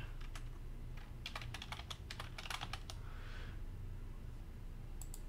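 Password typed on a computer keyboard, a quick run of crisp close keystrokes in bursts over quiet background hum, ending with a couple of final taps.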